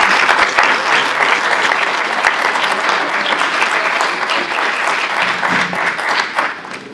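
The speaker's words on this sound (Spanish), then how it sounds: "Recibámoslo con un fuerte aplauso." Sustained audience applause at a freedom forum in Mexico welcoming Lech Wałęsa, a dense, steady wash of many hands clapping at even loudness for about seven seconds, with no speech over it.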